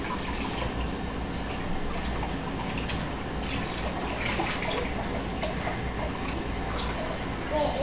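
Water runs steadily from what sounds like a tap or bath filling indoors, a continuous moderate hiss with faint voices and small household noises in the background.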